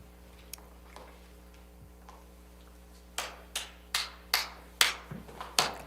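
Children clap a rhythm in a classroom music game: a few faint scattered claps, then a run of about eight crisp, close claps in an uneven pattern.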